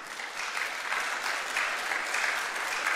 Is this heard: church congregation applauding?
yes